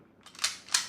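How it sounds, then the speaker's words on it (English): Trigger of a KJW KP-01 airsoft pistol, a Sig Sauer P226 replica, pulled in double action: two crisp metallic clicks in quick succession, close up and isolated. "double action pistol, so the trigger can be pulled and it'll fire."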